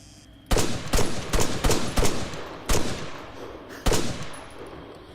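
Sharp gunshots from ARMA 3 military combat crack out in a burst of about eight reports over five seconds, irregularly spaced, with loud transients decaying into a reverberant tail above a low ambient rumble.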